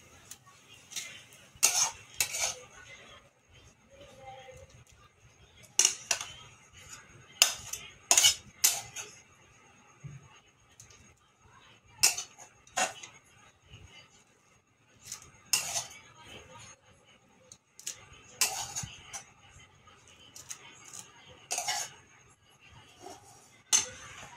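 A metal utensil scrapes and clinks against a frying pan while lifting out fried shulfa greens, in irregular bursts of sharp clatter with quiet stretches between them.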